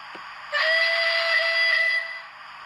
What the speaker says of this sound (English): Function 21 is medium whistle alternate.